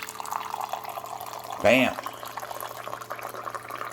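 An Aquibear reverse-osmosis purifier with instant boiling dispenses hot water in a steady, soft trickling stream that runs throughout, while a person briefly exclaims over it partway through.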